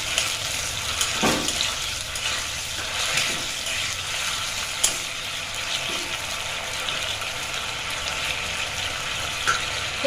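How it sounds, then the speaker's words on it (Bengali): Water poured from a rinsed mixing bowl into a hot pan before steaming momos gives a steady gushing hiss and sizzle, close and moderately loud, with small stirring clinks along the way and no talking. "এই যে জলটা, বাটি ধোয়া জলটা অল্প দিয়ে দেবো"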